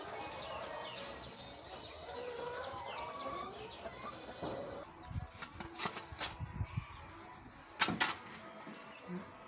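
Chickens in a poultry house holding about 1,000 birds cluck and squawk in a dense continuous crowd, with sharper individual calls and brief flapping bursts standing out toward the end.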